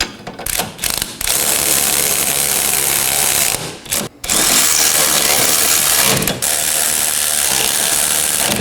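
A ratchet and socket snugging up the rear knuckle bolts on a 2018-2024 Chevrolet Equinox: loud, close, rapid mechanical clicking in long continuous runs, separated by a few brief pauses.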